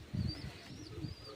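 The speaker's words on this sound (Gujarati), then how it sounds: "કેટલા કબૂતર है" Pigeons cooing during heavy rain, soft low repeated coos in short bursts, close by, with a faint high whistle-like tone drifting above.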